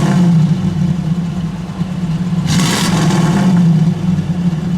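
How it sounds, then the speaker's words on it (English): A 1965 Buick Riviera with a 401 V8 runs at a steady, smooth idle nearby, with a brief rev swelling up partway through before settling back. The engine sound is continuous and moderately loud, with no voices. "Listen how quiet. Go ahead, give it a rev, JJ."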